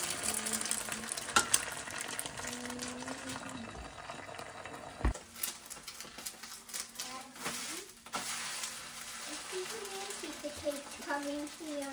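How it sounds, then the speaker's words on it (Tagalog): An egg fries in hot oil in a pan, giving off a steady crackling sizzle with occasional pops and scraping, while a person talks over it throughout. "Tuturuan ko kayo kung paano magluto ng itlog."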